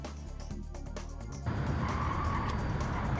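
Bugatti Chiron in Gran Turismo 7 giving a loud, continuous engine roar with low rumbling tones, shifting to a fuller, rougher drone halfway through with a hint of tire noise.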